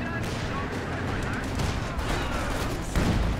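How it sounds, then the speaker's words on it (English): Artillery barrage in Company of Heroes 2: a dense, continuous wash of rumbling blasts and gunfire with a heavier thump near the end, loud and busy, with a voice speaking partly underneath. "Oh, this barrage."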